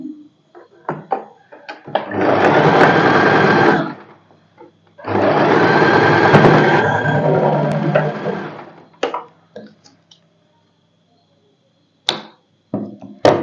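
A sewing machine double-stitches the shoulder seam of a boatneck dress in two sustained loud runs of rapid whirring, separated by a short pause, with faint handling clicks around them.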